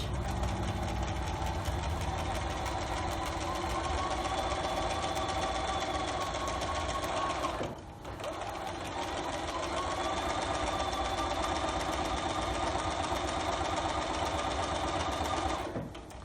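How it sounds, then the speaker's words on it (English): A close sewing machine hums steadily as it chain-stitches quilt pieces for a razor star block. The whirring motor runs nearly sixteen seconds with a brief pause midway before picking up again. "Don't sew really fast with these because you got a lot of seams you got to go over"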